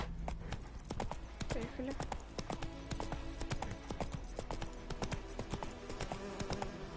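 Roach, a horse in a video game, gallops with rapid rhythmic clip-clop hoofbeats, steady and fairly close, while someone speaks briefly over it.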